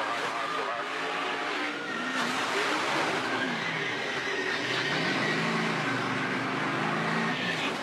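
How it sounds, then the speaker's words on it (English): A race car spins to the inside at turn 4 during the 2018 Daytona 500 weekend, loud engine roar and skidding tires blending with dense crowd and track noise, continuous and close throughout. "A car spins to the inside."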